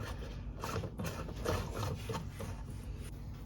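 A light bulb is screwed into a lamp's socket, giving a steady, close scraping and rubbing sound with small grinding twists throughout, with no talk.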